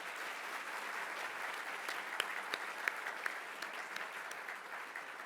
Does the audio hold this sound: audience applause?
yes